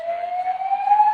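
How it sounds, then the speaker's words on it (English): A hotel early-alert alarm siren gives out a steady, slowly rising electronic tone, loud and continuous, with no voices over it. "The alarm you have just heard is part of the hotel early alert system."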